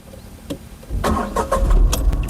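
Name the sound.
Tata Tiago car engine starting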